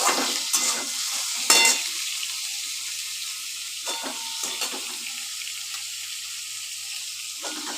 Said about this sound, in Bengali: দেখো সব কড়াইতে দিয়ে দিলাম, এবার সব একসঙ্গে ভেজে নিচ্ছি